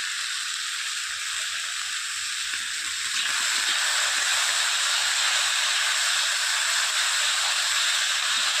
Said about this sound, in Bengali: ভালো করে চারদিকটা নুনটা মাখিয়ে এবার ভাজা হতে থাক।